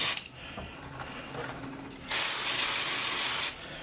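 Chain cleaner sprayed onto a motorbike chain: faint hissing bursts, then one loud, steady spray lasting about a second and a half, close by, with no talk.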